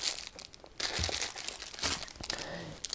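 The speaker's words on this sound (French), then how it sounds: "je vais vous le déballer tout de suite" Plastic wrapping of an AliExpress parcel from Piscifun crinkles and tears as it is unwrapped, a close, busy stretch of crackling and rustling with short pauses.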